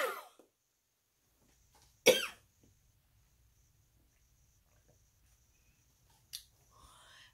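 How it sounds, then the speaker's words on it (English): A person clears their throat before singing a worship song: a few short, rough bursts near the start and middle, with another near the end, separated by long quiet stretches in an otherwise still room. "I'm trying to clear my throat over here."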